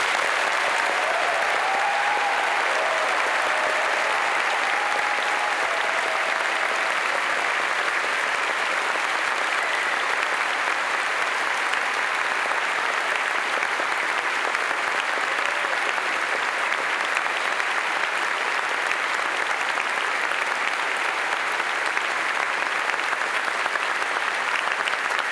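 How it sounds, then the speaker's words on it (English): A large audience at a University of Edinburgh graduation ceremony applauds steadily and loudly, a dense, even wash of clapping that holds at full strength for the whole stretch without pause. "Please join me in the first round of applause."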